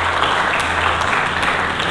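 A church congregation applauding together during a Sunday service, a dense, steady wash of clapping from many hands that holds at an even level throughout, with no speech over it.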